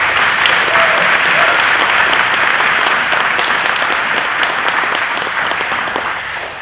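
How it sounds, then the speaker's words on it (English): Dense, sustained applause from an audience at a mayoral inauguration ceremony, many hands clapping loudly and steadily throughout, easing off slightly near the end. "Let's give them a round of applause."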